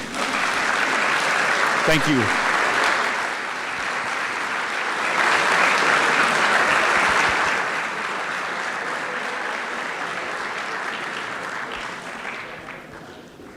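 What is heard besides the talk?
audience applauding volunteers at a robotics event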